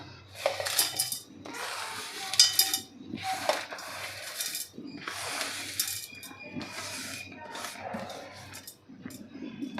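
Metallic clatter and scraping as roasted ingredients for bitter gourd chutney are tipped and spooned into a steel mixer jar, in irregular bursts with short pauses, close by.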